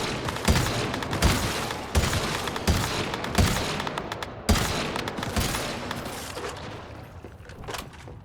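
Gun firing in the Once Human game, several loud sharp shots in quick bursts spread across the clip with brief echoing tails, growing sparser and fainter toward the end.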